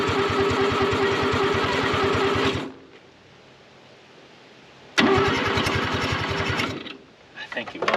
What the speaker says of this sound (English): Let's see if this thing will run.